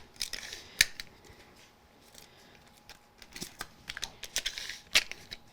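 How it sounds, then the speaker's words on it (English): Tape is pulled and pressed onto a white-on-white dimensional card backing during card making, giving quiet, scattered crisp ticks and crackles with a few sharper snaps, close up and without speech. "I'm going to use a little bit of tape on this since it's already quite dimensional."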